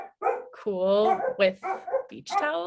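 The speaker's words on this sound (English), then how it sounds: "I'm really sorry about the barking dog." A dog barks and yips in short bursts at a moderate distance while someone talks steadily over it.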